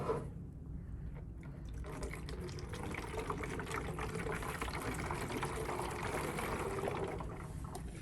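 Water pours steadily into the tank of a Protexus electrostatic backpack sprayer, a continuous close filling gurgle lasting several seconds with no break.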